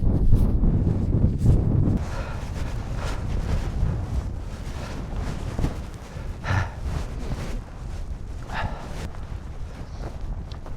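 Gale-force wind buffets the microphone on a freezing, snowy winter hillside, a loud, constant roaring rumble with heavier gusts at the start, alone without speech.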